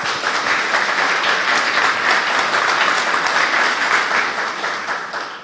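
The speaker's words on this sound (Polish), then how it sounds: "Wielkie brawa" Audience applause at a Polish book launch, a dense, steady wash of many hands clapping that carries on throughout and tapers slightly at the end, with no speech over it.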